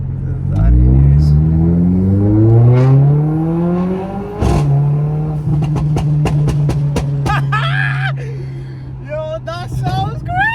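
Mercedes-AMG A45 engine rising through a hard rev, a sharp crack as it drops to a steady idle, then a rapid series of pops and blips, loud and close up.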